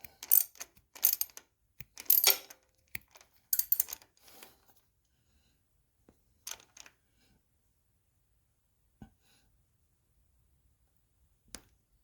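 Tightening a fastener on a Cletrac HG-68 12v starter brings a few close bursts of ratcheting clicks and metallic scrapes early on, then sparse isolated taps amid near silence, no talking.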